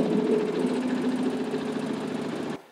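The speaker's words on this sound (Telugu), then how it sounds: "ఇది స్టిచ్చింగ్ మిషన్ అన్నమాట, స్టిచ్ అవుట్పుట్ అనేది బయటకు వస్తుంది మీకు." An industrial stitching machine sewing latex mattress covers with 80 threads at once runs in a loud, continuous mechanical drone with rapid rhythmic clatter, cutting off abruptly at the end.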